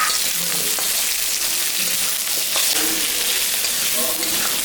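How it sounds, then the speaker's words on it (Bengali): Potatoes fry with lightly browned onions in a pan, giving a loud, continuous close sizzle with occasional stirring scrapes and no talking. "পেঁয়াজটা হালকা ভাজা হয়ে গেছে, ওর মধ্যে এখন আমি কয়টা আলু দিয়ে দিই।"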